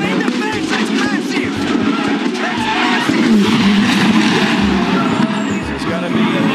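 Supercars race cars skid and crash in a big incident between two touring cars, with screeching tyres, engine noise and scraping over loud commentary throughout.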